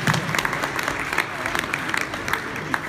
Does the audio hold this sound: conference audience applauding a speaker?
yes